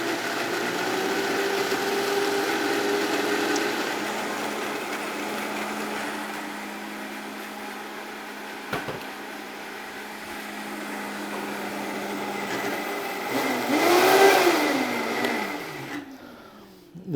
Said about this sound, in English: food processor that can quickly blend all this together